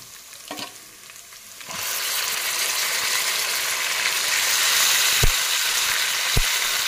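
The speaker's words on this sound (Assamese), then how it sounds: "এতিয়া মই ইয়াতে মাংসখিনি দি দিছোঁ" Meat hits a hot oiled pan and erupts into a loud, crackling sizzle after a quieter start, then keeps frying steadily with a couple of sharp clinks of a utensil against the pan.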